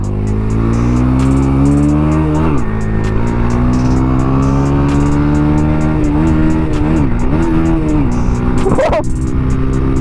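A retuned 110i motorcycle accelerating: a loud, close engine note climbing steadily through the gears, dipping briefly at each shift before rising again, with a final sharp rev near the end.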